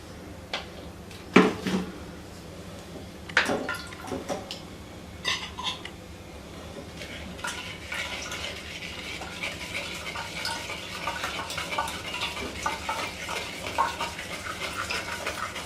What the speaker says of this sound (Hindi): एक बर्तन ले लेंगे, छलनी ले लेंगे और इसमें हम इसको छान लेंगे।